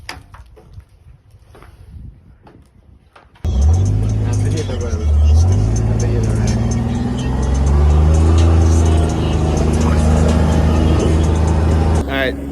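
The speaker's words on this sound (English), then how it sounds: "they're driving back right now" A car drives along during tree trimming in 20-degree weather, starting with a sudden loud engine roar that rises and falls in pitch as it accelerates, then settles into a steady drone, with voices faintly underneath.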